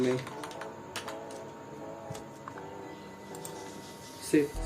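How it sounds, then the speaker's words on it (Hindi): Fingers tap out a short search entry on a Windows PC keyboard, a quick run of light clicks followed by a firmer key press near the end, close up under a faint background hum. "सर्च बार में लिखना है कंट्रोल पैनल और एंटर प्रेस कर देना है"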